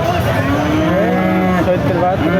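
An 8-month-old bull calf moos loudly and close at a cattle market, one long drawn-out bellow rising and falling, with no talking.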